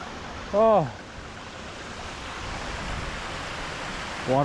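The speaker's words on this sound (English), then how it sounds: "waterfall." Steady rushing of a waterfall in the Alps, a broad continuous roar that fills the scene, with brief voices breaking in at the start and end.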